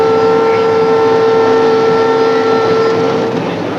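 An Amtrak train running on a New York-area railroad in 1979, a loud steady rumble of wheels and cars with a sustained tonal hum throughout, no voices.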